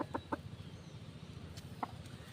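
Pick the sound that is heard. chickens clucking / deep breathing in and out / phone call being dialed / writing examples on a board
chickens clucking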